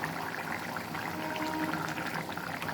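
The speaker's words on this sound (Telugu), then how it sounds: "గట్టిగా ఉంది, వాటర్ కలిపి పోస్తాను." A thick coconut and cashew paste thinned with water pours steadily into a cooking pot, a soft, even liquid stream heard close up and alone for a few seconds.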